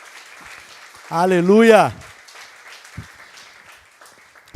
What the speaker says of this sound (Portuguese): Você pode aplaudir ao Senhor, queridos?